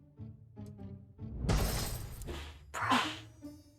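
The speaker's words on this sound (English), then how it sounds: "The sound of something shattering." A loud crash of something shattering comes from behind a room, a burst of breaking followed by a second clattering impact, with faint background tones before it.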